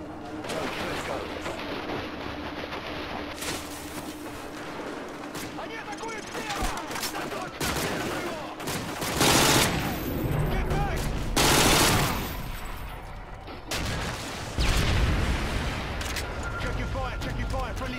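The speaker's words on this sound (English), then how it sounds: "Those explosions are going to attract a lot of attention." Loud gunfire and heavy explosions in Call of Duty Modern Warfare 2, during a village fight around a mobile SAM site, with repeated blasts and rattling shots layered under battle chatter and voices.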